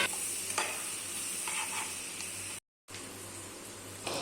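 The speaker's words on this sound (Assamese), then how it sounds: "ভালদৰে পিঁয়াজ আৰু জলকীয়াটো ভাজি ল'ম।" Chopped onion and chili pepper, with turmeric added, sizzle steadily in hot oil in a pan, a close, even crackling hiss with occasional stirring scrapes and a brief dropout midway.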